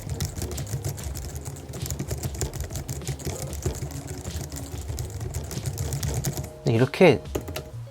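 Keys on a Logitech MX Keys wireless keyboard are struck fairly hard, yet the rapid typing sounds soft and muted, running steadily before a brief burst of louder clatter near the end. A voice speaks briefly.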